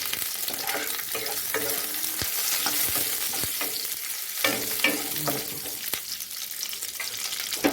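Curry leaves and black pepper sizzle in hot oil in a pan, a steady broadband crackle with repeated sharp taps and scrapes of a stirring spoon, fairly close and with no voices.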